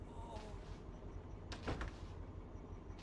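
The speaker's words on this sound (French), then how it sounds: "J'entends une porte claquer." In the stealth game Hitman: Blood Money, set aboard a boat, a door slams with a sharp, low thud or two partway through, faint beneath a steady ambient background hum.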